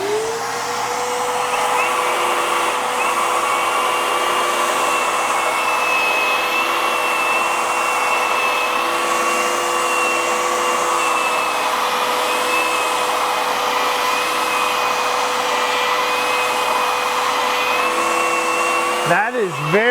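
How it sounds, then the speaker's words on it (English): Shop vacuum droning as dust extraction for a DEWALT 20V XR 3x21-inch cordless belt sander (DCW220), a loud steady whine with a constant tonal hum throughout, switching off with a brief wavering dip at the very end. "Let's just turn on this vacuum and see what it does for dust"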